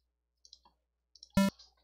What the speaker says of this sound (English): because G in the 2nd octave sounds like this.